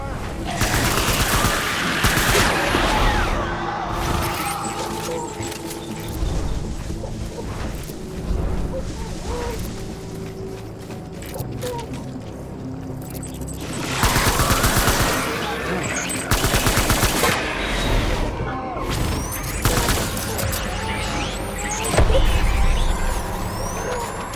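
Sustained gunfire in the video game Death Stranding Director's Cut, rapid bursts and rattling shots recurring in loud waves over mechanical clatter, with voices calling out at times under the shooting.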